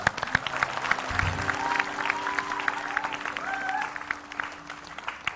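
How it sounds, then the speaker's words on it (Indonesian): A studio audience claps during an Indonesian television talk show, moderate applause with a few voices and tonal sounds weaving through, fairly distant and steady before tapering slightly at the end. "Tepuk tangan buat Indonesia."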